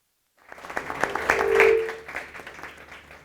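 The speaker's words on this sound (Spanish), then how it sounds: "os pido un aplauso para la mesa" Applause from a conference audience starts abruptly after a short silence, builds to a full round of clapping, then begins to taper off.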